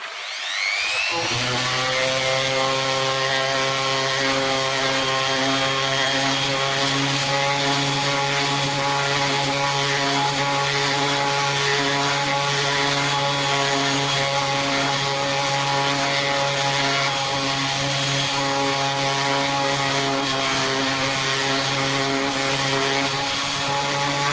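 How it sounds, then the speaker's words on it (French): A loud, steady mechanical whine with a strong constant hum starts abruptly and runs without pause, an electric sander grinding continuously on wood for a cat tree. "Je reprends ma ponceuse."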